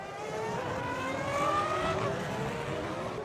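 Formula 1 cars from the 2002 season race past, their high-pitched engines screaming close and loud, with rising and falling whines overlapping throughout.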